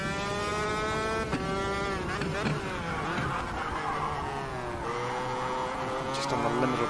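A super kart's engine buzzes loudly with shifting pitch as it passes on a race track, rising and falling steadily throughout with brief revving changes.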